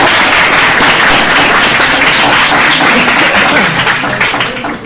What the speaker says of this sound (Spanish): el profesor Alex Fuentes, así que un gran aplauso, chiquillos, para que todos lo escuchen.